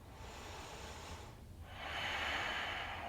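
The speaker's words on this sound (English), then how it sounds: "Let's take another full breath" A deep, full breath during an early morning vinyasa yoga flow, a long airy exhale followed by a stronger, louder rush of air, close and alone without talk.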